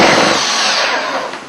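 A 15-volt cordless drill drives a lag bolt into wood, a loud strained motor whine with grinding that holds steady and then tails off near the end. No one talks over it.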